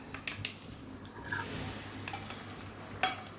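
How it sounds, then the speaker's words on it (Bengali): An egg omelette cooking in a pan, a quiet sizzle running underneath a few sharp utensil clicks and scrapes against the pan, with no talking. "ডিমের অমলেটটা বসাচ্ছি।"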